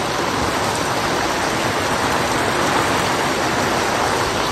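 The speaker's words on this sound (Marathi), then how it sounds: "बाहेर एकदम भयंकर पाऊस सुरू आहे बघा." Heavy rain pours down in a dense, steady roar of drops with no letup, loud and close, without any voices.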